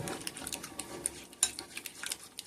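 Spoon stirring and clinking in a bowl while lemon juice is mixed into a chicken marinade, with faint irregular scrapes and sharp taps close by.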